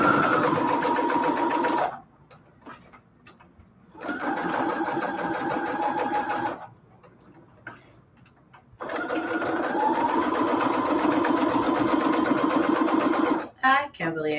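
A sewing machine runs a straight stitch in three loud, close bursts of fast rhythmic whirring, separated by short quiet pauses, with a brief clatter at the end.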